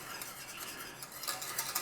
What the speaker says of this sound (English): just stir it through and thicken it up in there with the meat juices